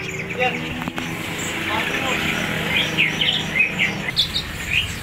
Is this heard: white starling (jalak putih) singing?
yes